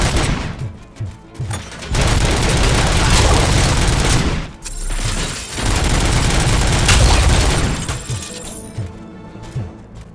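Gunfire in the video game Robocop: Rogue City comes as two long, loud stretches of rapid shooting, with sharper separate shots before, between and after them. There is no talking.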